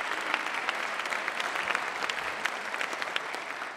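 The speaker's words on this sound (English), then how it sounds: "give him a round of applause" An audience at the 2016 Mississippi Boys State assembly claps steadily for a speaker, a dense, even wash of many hands that holds at the same level from start to end with no voices over it.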